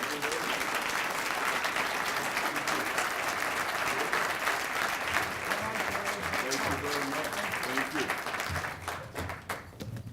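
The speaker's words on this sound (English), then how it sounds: "I really appreciate the applause that you gave Jay Doherty" Sustained applause from a large audience, steady and even throughout, fading slightly near the end.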